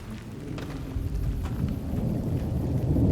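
Steady outdoor rain falling at night through a long wet spell, a continuous close wash of patter with low rumbling underneath that may be distant thunder, slowly building in loudness, with no voices.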